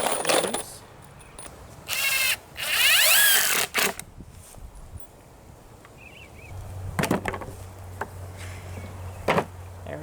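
Screws are driven into a wooden fish tank stand with a power drill, two loud close whirring bursts followed by clicks and handling noises, then a quieter hum.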